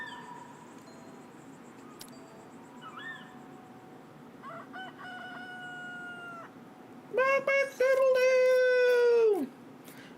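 A rooster crows loudly and close, a strained call with a long held note running a couple of seconds, preceded by quieter clucking and fowl sounds over steady background noise.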